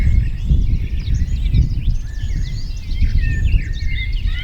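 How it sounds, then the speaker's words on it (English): Many birds chirp and sing in the Somerset countryside at a wild camping spot, a busy chorus of calls at moderate distance over a steady low rumble of wind or background noise, with no talking. "There's just birds everywhere just singing."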